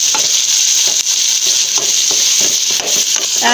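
A tomato fries with browned onions in a pan, giving a loud, steady sizzle with repeated stirring scrapes and no talking.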